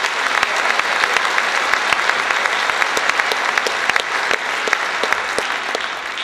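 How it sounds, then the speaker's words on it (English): Concert audience applause at a Sheboygan Symphony Orchestra evening, loud sustained clapping from a large crowd with sharp individual claps standing out, continuous throughout without talk. "Please give them a round of applause."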